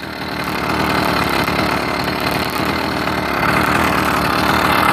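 A two-stroke motorized bicycle engine runs steadily and loudly up close, with a buzzing, rattling drone at constant pace throughout and no talking.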